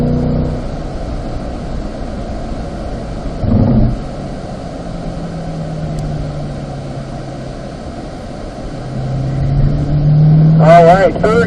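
A Corvette on the Spring Mountain race track accelerating in fourth gear, a steady engine drone that swells and rises toward the end, with an instructor talking over it.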